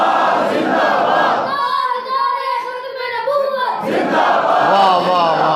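A crowd at a religious gathering roars a chanted slogan response in loud, ragged unison between a leader's shouted calls, the massed voices swelling and then falling away.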